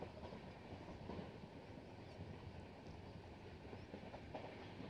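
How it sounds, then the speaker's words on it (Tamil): A passenger train on the Tirunelveli–Tiruchendur line rolls steadily along the tracks, a continuous low rumble with faint rhythmic wheel clatter, heard from inside or close by with no talking. "ஒரு நாளுடைய கடைசி ட்ரெயின் இது தான்."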